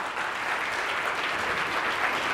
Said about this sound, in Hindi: एक बार जोरदार ताली हो जाए आप लोगों के लिए।